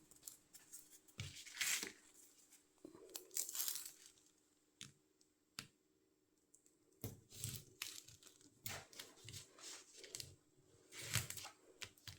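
Scissors snip through paper in short bursts of crisp cutting and crinkling, with pauses between cuts, close up and fairly quiet.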